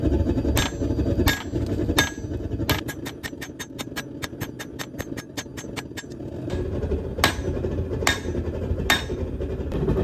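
Steel chisel being hand forged, a hammer striking the hot metal in a fast, even run of sharp ringing blows, with slower, spaced strikes before and after, all over a steady low engine-like rumble.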